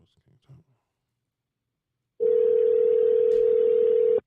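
A steady telephone tone plays for about two seconds after faint, brief talk, as an outgoing call goes unanswered; it is loud and even, then cuts off.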